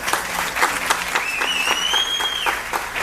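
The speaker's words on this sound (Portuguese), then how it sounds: "Salve de palmas para a Patrícia." An audience at a charismatic renewal workshop claps to welcome a woman to the front, sustained crowd applause at steady volume with a brief whistle-like tone rising above it midway.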